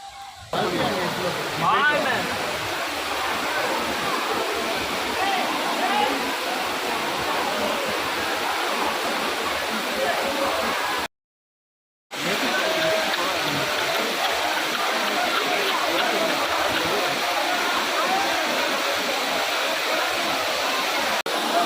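Waterfall at a bathing spot with separate areas for men and women, running low after little rain, gives a steady broadband rush throughout, with a brief dropout near the middle and a voice faintly present under the water.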